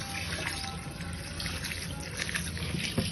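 Running water rinses cooled grated bottle gourd for a raita, a steady close trickle and splash that goes on without a break.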